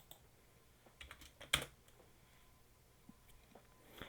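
Sparse computer keyboard keystrokes, a few isolated clicks with one sharper, louder press near the middle, faint against a quiet room with no talking.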